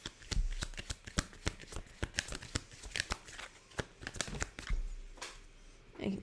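Tarot love cards are shuffled close up in a steady run of crisp riffling flicks and soft thumps, with no one speaking.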